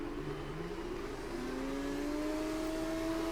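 Formula 2 race cars launch off the grid at a sprint race start in Spain in the game F1 24, engines whining and rising in pitch together, a steady layered roar with no talk.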